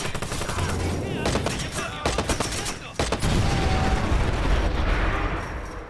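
Rapid bursts of gunfire in the video game Watch Dogs crackle in quick succession, dense and sharp, with brief pauses between volleys and a faint voice underneath.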